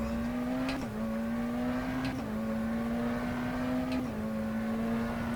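McLaren Senna GTR race car engine in rFactor 2 at Spa-Francorchamps, a steady loud high-pitched drone held near, with three brief dips and clicks of gear shifts.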